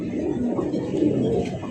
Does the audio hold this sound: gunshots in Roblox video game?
no